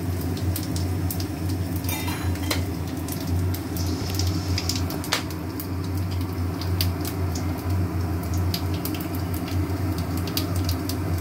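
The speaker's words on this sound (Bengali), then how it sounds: "তেল দিলাম, দিয়ে মশলাটা ভাজা হয়।" Spices frying in oil in a kadai, a steady crackling sizzle under a low hum, dotted with sharp pops and light metallic clinks of a spoon against the pan, close by and without speech.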